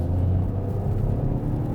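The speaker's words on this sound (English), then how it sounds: "that 3-cylinder actually sounds cool." Toyota GR Corolla three-cylinder engine running steadily, a low, even rumble with a throaty hum that holds at a constant loudness throughout, heard up close with no talking.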